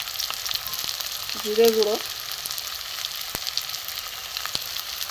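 Fish roe mixture with potato and onion sautés in a pan with spices, a steady soft sizzle and crackle running throughout, with a brief louder scraping stir in the middle.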